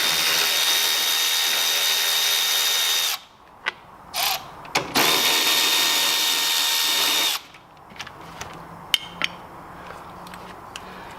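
A power tool drives out the 10mm bolts holding a Miata soft top in two loud, steady bursts of about three seconds each. Between and after the bursts come scattered metallic clicks and handling knocks.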